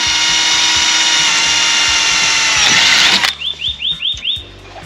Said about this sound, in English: just make a tiny hole and then put the screw in